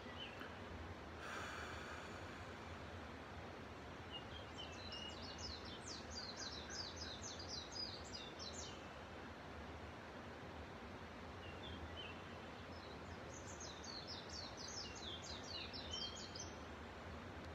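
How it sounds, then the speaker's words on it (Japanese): Birds chirp in two short bursts of bright, quick calls over a soft, constant outdoor hush in a forest at Ise Grand Shrine's Naiku; distant and fairly faint. "鳥の声が 聞こえます。"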